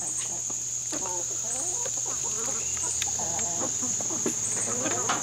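Pet chickens, including a red-shouldered Yokohama and a Saipan jungle fowl, cluck and murmur continuously nearby over a constant high-pitched background whine.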